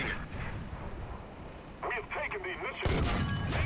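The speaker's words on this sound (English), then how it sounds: "I get to shoot right into the side of the tank, and it only takes 2 shots to finish him off" Tank cannon shots in War Thunder realistic battles, an M46 Patton firing into the side of a Panther II; a heavy booming blast lands near the end after quieter rumbling and game noise.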